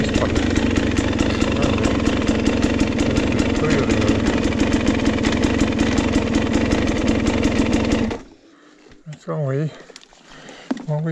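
A dirt bike engine idles loudly and steadily close by during a trail maintenance ride at an off-highway vehicle park, then cuts off abruptly, leaving near silence broken by a few spoken words.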